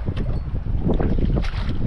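Strong wind buffeting roars across the microphone, continuous and loud with gusty fluctuations.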